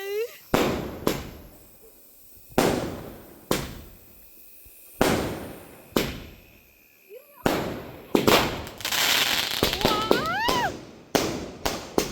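Sharp firecracker bangs at a birthday celebration go off one after another at irregular intervals, loud and close, with voices calling out and a whistling rocket rising near the end.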